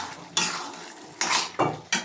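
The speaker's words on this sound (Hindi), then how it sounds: "वो बर्तन धो रही है" Pots, pans and cutlery clatter in a home kitchen as dishes are washed, with several sharp clanks at irregular intervals over a low running background.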